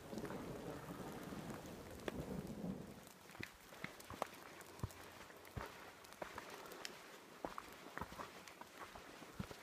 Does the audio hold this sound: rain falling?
yes